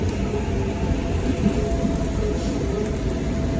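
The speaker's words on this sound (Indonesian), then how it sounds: "Jadi dia udah pindah wesel di sini, goyang wesel." A KRL commuter train in the early morning rolls across a rail switch at the branch toward Nambo, giving a steady, close, continuous rumble and rattle of the carriages with no voices.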